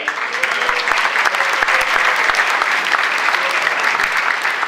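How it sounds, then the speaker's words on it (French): A large audience at a Paris sommeliers' gala breaks into loud, dense applause, a continuous wash of many hands clapping close by. "On peut les applaudir."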